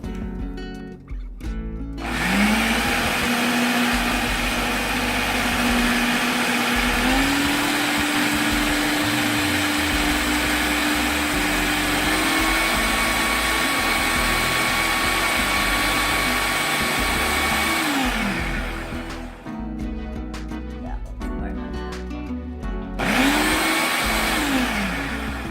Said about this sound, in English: So much easier if you have a food processor.